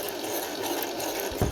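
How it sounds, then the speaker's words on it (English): A sewing machine runs steadily while stitching a box-shaped zipped pouch, a continuous close mechanical whir with no talking. "I'm going to start sewing, but I'm not going to back stitch until I get to this point"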